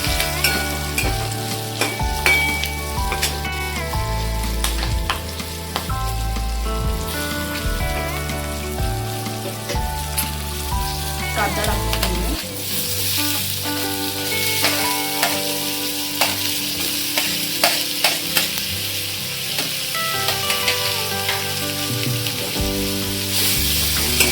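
Chopped okra and green chilies with Agri masala sizzling in a pan for a dry bhendi bhaji, a loud continuous crackling fry with repeated scraping stirs of a utensil against the metal, close up and with no talk.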